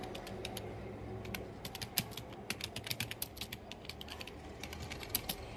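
Close, quiet typing on a computer keyboard with irregular clusters of light key clicks over a soft room hum, with no one speaking.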